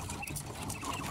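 Quails in a breeding pen give soft, faint clucking calls, several short chirrups scattered across a quiet moment.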